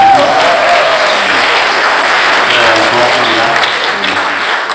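An audience applauds at a panel discussion on long-term care facility policy, with dense, loud, sustained clapping that slowly tapers off.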